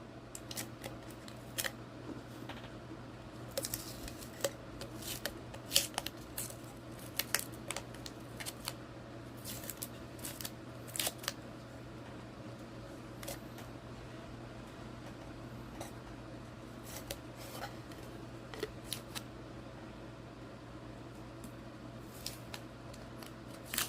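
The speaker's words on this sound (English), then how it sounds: "We're going to take off our painter's tape." Painter's tape pulled off glass with a pick during a glass personalization project, giving scattered short crackles and sharp peeling ticks over a steady low hum, quiet and close with no talking.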